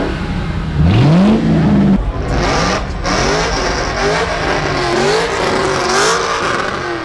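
A vehicle does a burnout in front of a Walmart, its engine revving loudly in repeated rising pulls over a constant roar of spinning tyres, close and sustained.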